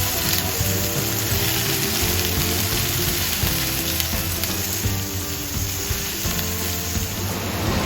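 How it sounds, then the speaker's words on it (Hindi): Onions frying in a pan for Amritsari chole, a steady close sizzle and crackle running continuously with occasional stirring scrapes and no talk. "जब तक ये थोड़ा हल्का ब्राउन ना हो जाए, जब तक हम इसको फ्राई करेंगे प्याज को।"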